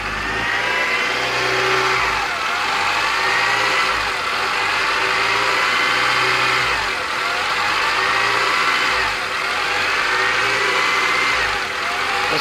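A black 1990 Honda Accord EX engine idles roughly and continuously with an uneven, lumpy rhythm, its steady mechanical hum dipping and surging periodically.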